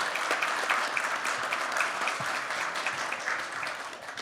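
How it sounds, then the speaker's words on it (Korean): An audience of Vietnam War veterans and bereaved families at a talk concert gives a long, even round of applause, moderately distant and steady, with no voices over it. "진심으로 고맙다는 큰 박수 한번 쳐주십시오."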